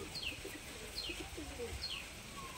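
Pigeons coo in a loft, soft low throaty calls repeating several times alongside brief higher chirps, with a faint hum of background noise.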